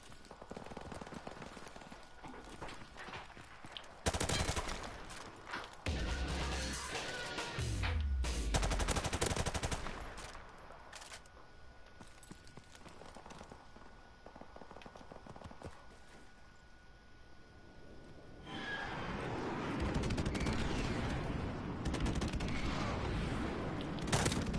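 Rapid gunfire from a video game gun, loud bursts and sustained automatic fire over a busy mix of game effects, with heavier rumbling stretches near the start and end.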